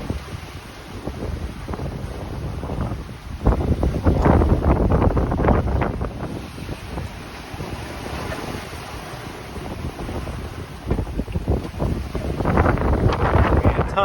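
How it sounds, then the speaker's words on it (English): Ocean waves and strong wind around a small sailboat at sea, rough water surging and crashing against the hull in repeated bursts under constant buffeting wind noise on the microphone. "These waves are getting impressive."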